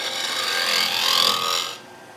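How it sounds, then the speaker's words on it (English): A 16mm woodturning gouge sharpened to 45 degrees cuts a spinning wooden skateboard blank on a lathe, giving one continuous scraping, hissing cut that swells and then stops abruptly near the end, close and alone. "I'm going to switch to a 16mm gouge, sharpened to 45 degrees, and just clean this up now"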